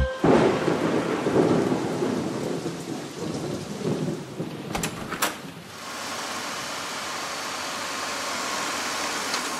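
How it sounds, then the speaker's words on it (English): Heavy rain pours steadily while thunder cracks and rumbles loudly near the start, then the downpour continues alone as an even hiss. "It's raining."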